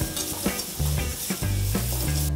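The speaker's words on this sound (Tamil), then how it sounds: "பூண்டு நல்லா வறுபடணும்." Garlic frying in a pan for a South Indian lentil powder, a close, continuous sizzle with a few stirring scrapes and soft knocks, no voices.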